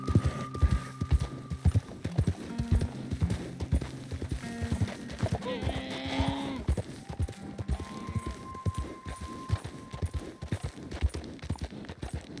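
Horse hooves clip-clopping at a slow walk in Red Dead Redemption 2, a steady rhythmic clopping with an occasional whinny, heard beneath someone talking and soft game music.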